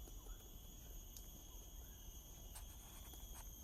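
Cicadas and forest insects in Bukit Batok Nature Park, Singapore, drone continuously on a quiet afternoon as faint, steady high-pitched buzzing over low ambient rumble, with occasional soft clicks.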